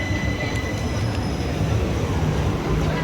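A passenger train runs through a railway station in southern England, on the line through Three Bridges, Balcombe, Haywards Heath and Burgess Hill, with a steady loud rumble of wheels and carriages throughout.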